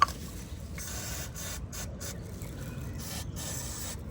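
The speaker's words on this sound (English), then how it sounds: "I'm going to spray some WD-40 first." A steady hiss of WD-40 aerosol spray on the front brake caliper bolts of a Toyota hybrid, with brief pauses between bursts, close and fairly quiet, no voices.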